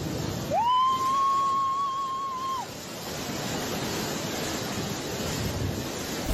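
An incoming ocean wave surges in a steady, broad roar of surf and wind. A thin whistling tone rises above it near the start.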